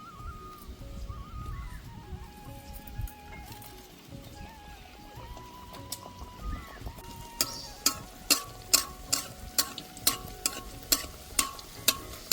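Dough balls of semolina and potato for luchi go one at a time into hot oil in a wok, setting off a steady sizzle and then a run of sharp, regular spattering pops that grow louder toward the end.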